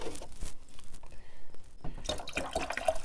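A hydroponic net cup holding a transplanted plant's roots is pushed into a container of nutrient water, giving brief close sloshing and splashing in the second half after a quieter stretch, with no talk.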